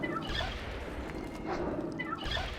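Turkeys gobble in the video game World of Warcraft Ascension, with a few short bursts of gobbling over a steady game background that stays at an even level throughout.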